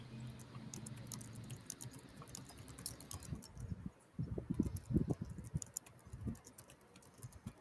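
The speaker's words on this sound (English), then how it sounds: "Sorry, I'm typing." Quiet, close clicking of keys on a computer keyboard, rapid irregular taps in bursts with short pauses, no speech.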